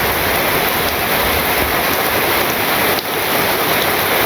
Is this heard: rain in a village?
yes